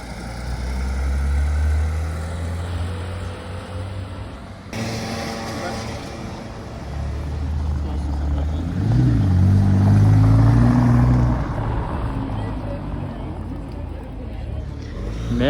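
A car engine runs with its exhaust valves closed during carspotting in Deauville, a low steady rumble that swells louder toward the middle, with people talking over it.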